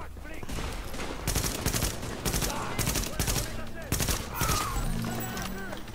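Gunfire from enemy engagements in The Division: several sharp broadband bursts in quick clusters across the middle of the clip, loud and close over a steady game-ambience bed, with voices talking underneath.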